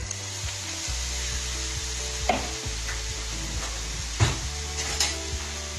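Grated carrots fry in a few spoonfuls of olive oil in a pan, giving a steady broadband sizzle over a low hum, broken by a couple of soft knocks and scrapes.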